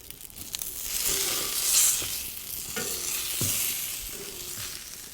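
Aubergine halves sizzle and crackle in a hot pan, with stirring and scraping movements, a hiss swelling and easing over a few seconds, close up and with no voices.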